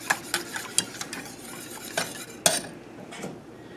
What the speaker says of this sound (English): And then you whisk it till it gets thicker.